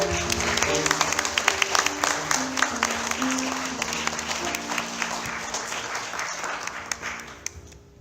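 A church congregation at a gospel concert by a blind choir claps hands in praise, dense steady applause that fades toward the end, with voices mixed in underneath.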